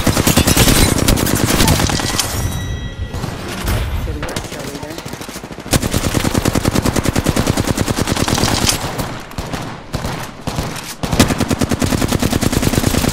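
Rapid automatic gunfire from the video game Apex Legends, loud and sustained in dense bursts with brief gaps, with a voice speaking briefly over it.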